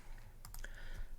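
A short burst of a few quick key clicks on a computer keyboard while entering numbers into a calculator, faint and close over a low background hum.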